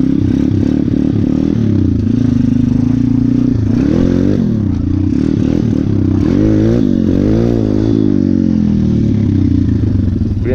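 Pit bike motorcycle riding off-road by a river, the small engine buzzing loud and continuous with repeated throttle blips and revs, plus clattering from rough terrain.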